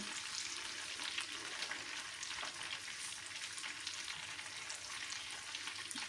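Steady, even sizzling of pears caramelizing with sugar in a hot frying pan, a continuous crackle with no voices.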